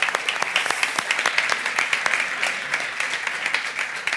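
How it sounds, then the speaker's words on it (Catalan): An audience at a live Catalan comedy show applauds, with sharp individual claps standing out in a steady, lively patter that holds for several seconds. "Un aplaudiment."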